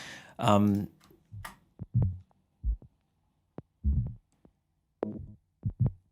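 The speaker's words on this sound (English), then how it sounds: "Another thing I have is what I like to call my kind of glitch loops." Choppy, stuttering bursts of processed sound, cut into short glitchy fragments separated by abrupt silences.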